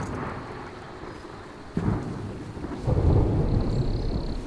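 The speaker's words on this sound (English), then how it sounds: "Now it's raining." Rain and rolling thunder in the survival game Smalland, with a sharp thunder crack near the two-second mark and a heavier rumble building after three seconds over a steady wash of rainfall.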